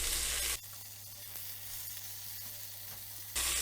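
Jamaican-style oxtail sears in a greased pot with a faint, steady sizzle that sounds fairly distant, framed by brief louder bursts of noise at the start and end and no talking.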